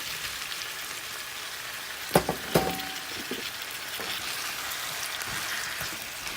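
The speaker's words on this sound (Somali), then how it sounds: "haddeer waxaan ku darayaa yaanyo aan soo jarjaray." Chopped tomatoes sizzle in a hot pan while a vegetarian spinach dish is being cooked. A steady, fairly quiet frying hiss runs throughout, with a few brief clinks and stirring sounds early on and no talking.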